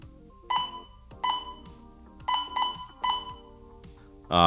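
Repeated electronic beeps from a Baojie BJ-218 VHF/UHF dual band ham radio, in bursts of two or three tones with short pauses between, fairly loud and close, with a louder tone starting at the end.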